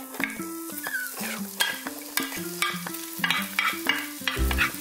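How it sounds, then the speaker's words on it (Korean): Rice and vegetables stir-fry in oil over high heat for black-bean-sauce fried rice, a close, busy sizzle broken by rhythmic metallic scraping and clanking of a spatula against the pan. "처음부터 센 불에서 볶아주셔야 돼요."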